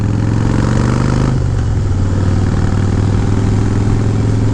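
A motorcycle with short shot exhaust pipes fitted with quiet baffles rumbles steadily during a ride, a loud continuous low drone with a slight shift in pitch partway through and no talking.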